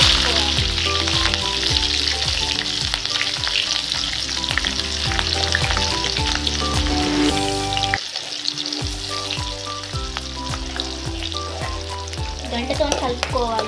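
Onion and green chilli fry in hot oil seasoned with mustard seeds and cumin, a loud, dense crackling sizzle that carries on throughout beneath background music, briefly dipping midway.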